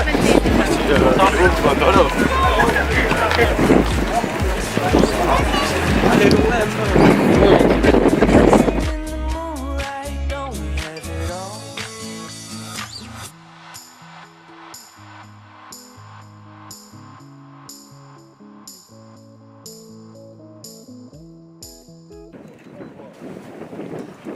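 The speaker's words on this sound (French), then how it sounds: "le vent souffle fort cet après-midi à Pinet" Strong afternoon wind at a football match in Pinet, France roars and buffets the microphone for several seconds, then drops away to quieter tonal sounds.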